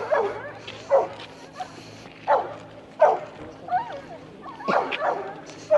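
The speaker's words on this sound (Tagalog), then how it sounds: "Ang laki ng aso nila." A large dog barks and yips in short repeated bursts at a busy lakeside parking area near Banff, moderately close, with crowd murmur in the background.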